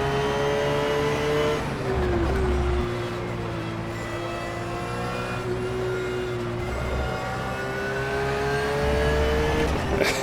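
A Porsche GT3 race car engine drones loud and steady at Mugello in rFactor 2, its pitch rising and falling gently through corners with no voices over it.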